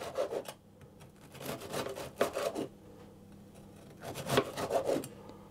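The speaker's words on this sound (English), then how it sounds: "you slice them on a diagonal like this, about half an inch thick" A knife saws through crisp flaked-almond biscotti on a diagonal, making close, rasping back-and-forth strokes in three clustered bursts with quieter pauses between.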